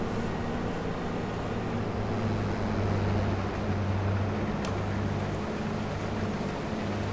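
A farm vehicle's engine runs steadily in Farming Simulator 22, giving a continuous low droning hum with a constant pitch. No talk is heard over it.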